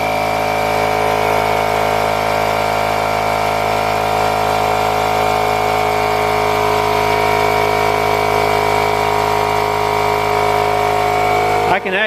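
A Milwaukee compact inflator pumps up a 225 16-inch car tire, giving a loud, steady mechanical drone with a constant pitch that runs unbroken for about twelve seconds before cutting off at the end.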